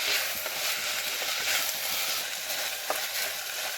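Chopped tomatoes fry in a pan for a Kerala kadachakka curry, giving a steady, close hiss of sizzling oil with occasional scrapes and taps as they are stirred.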